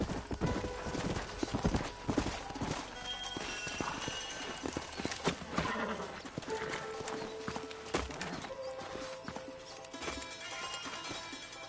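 Hooves clop steadily in a brisk rhythm, several horses trotting together in the video game Red Dead Redemption, with a horse whinnying amid busy background sounds.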